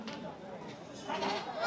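Goats bleat at a busy livestock market ahead of Eid, short calls rising over loud crowd chatter and nearby talking.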